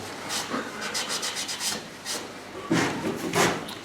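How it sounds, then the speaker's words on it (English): Rhythmic rubbing strokes on a glittered snowman craft, a close, dry scraping repeated in quick even passes, then a few heavier, louder rubs near the end. "So all I'm doing with this is just giving it a rub up."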